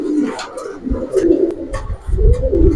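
Giribaz pigeon cooing, several low rolling coos close by with faint background voices.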